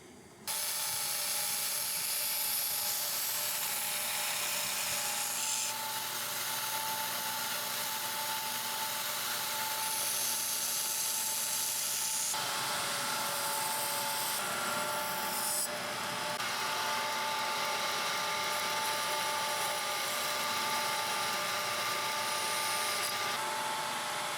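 Belt grinder shaping the bevels of a small knife blade up to 600 grit, a loud continuous abrasive whine with a steady motor hum, briefly dipping and resuming mid-pass, close up with no talk.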